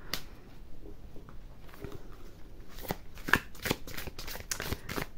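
Tarot cards being shuffled up close, a series of quick riffling and snapping card sounds growing busier toward the end, with no speech over them.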